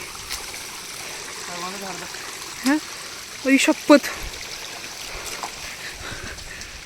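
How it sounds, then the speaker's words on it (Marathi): A steady wash of flowing stream water runs in the background while people talk briefly over it. "पाण्याचा आवाज यायला लागलाय कुठनं तरी"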